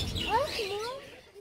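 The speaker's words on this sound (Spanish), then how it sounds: "Los patitos." Ducklings peeping at a flea market animal stall, several high chirping calls close by over crowd noise and a voice.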